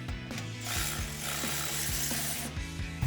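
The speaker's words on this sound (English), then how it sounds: "I'm going to switch to my electric air ratchet, the normal 19 millimeter socket." An electric air ratchet with a 19 mm socket runs close and steady, giving a continuous buzzing whir with a rapid ratcheting pulse as it loosens a brake caliper bolt on a 2010-2015 Camaro SS.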